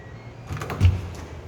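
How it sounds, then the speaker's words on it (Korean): An office door on the 11th floor of a new knowledge-industry building opens with a soft, brief rattle and thump of the handle and latch, close by, amid quiet room tone. "문을 열고요."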